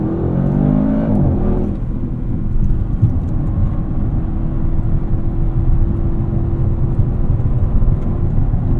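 2024 Audi RS7 accelerating hard up a highway entrance ramp, a loud steady engine drone and road roar heard from inside the cabin, holding strong throughout with a brief shift in tone early on.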